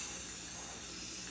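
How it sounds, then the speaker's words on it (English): Spray paint hisses steadily from an aerosol can onto the rim of a lid, a continuous close, fairly quiet broadband spray with no talking. "I'm going to spray right about here on the rim"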